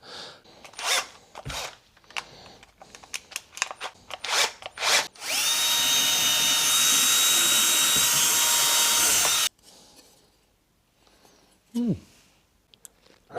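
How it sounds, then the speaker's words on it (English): Steel wire brush spun on a power drill scouring metal parts while restoring a Royal Enfield Bullet motorcycle; a loud, steady whining grind runs for about four seconds, framed by shuffling handling noises before and after. "So I'm going to use the steel wire brush."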